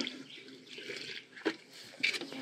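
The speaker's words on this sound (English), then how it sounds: "I try to push the leaves aside and pour it at the base so I'm not splashing any on the leaves" Liquefied kitchen waste poured at the base of garden plants, with the leaves pushed aside: a soft, steady trickle and splash, quiet and close, broken by a couple of brief louder splashes.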